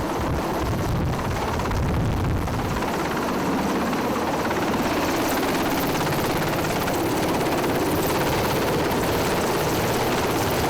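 A military helicopter hovers about 20 metres above the ground during an infiltration operation, its rotor roar loud, dense and steady throughout, with wind buffeting the microphone.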